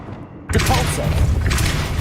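A Depulso spell impact in Hogwarts Legacy: after a quiet lead-in, a sudden forceful thump hits and leaves a rumbling, busy wash of game sound behind it.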